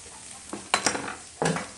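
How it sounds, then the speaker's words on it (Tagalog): Ginger and other aromatics sautéed in a pan during home cooking, a few brief stirring scrapes and sizzling bursts standing out over a quiet background. "gisahin muna natin yung ating mga ricado. Ating ginger."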